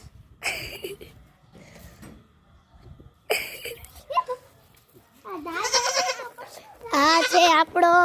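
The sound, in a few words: goat bleating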